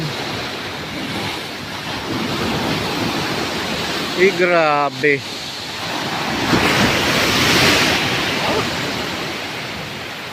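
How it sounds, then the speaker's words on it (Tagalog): Large sea waves crash and roll in a steady loud wash of surf with wind buffeting the microphone, and a man exclaims briefly partway through. "Sobrang lalaki ng alon"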